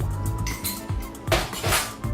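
A spoon stirs red bean salsa in a bowl, making close clinks and scrapes against the dish that come in short bursts, with a louder clatter near the end.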